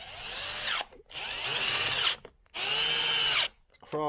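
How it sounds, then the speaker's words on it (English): An impact driver runs bolts down in three bursts of hammering whir, each lasting about a second, with short pauses between them. The bolts are on an old two-stroke engine, and the bursts sound loud and close. "If you're wondering why I'm using an impact on this, this is actually incredibly weak"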